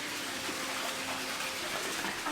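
Steady rushing, splashing water in Canada, continuous and fairly loud with no breaks, like a gushing stream or tank.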